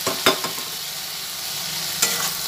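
Fried mola fish is stirred into softening taro stems in a pan, a soft steady sizzle broken by a few sharp scrapes and knocks of the spatula.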